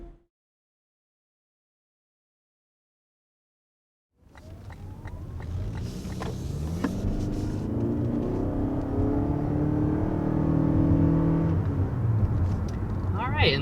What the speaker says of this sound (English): And there's a little acceleration here with this 2022 ES300H.